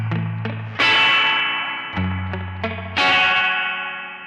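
Electric guitar played through a Danelectro Spring King spring reverb pedal: sparse plucked chords and single notes ringing out with long, splashy spring reverb tails filling the gaps between them, played alone and close.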